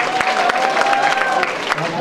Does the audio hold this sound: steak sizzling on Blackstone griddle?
no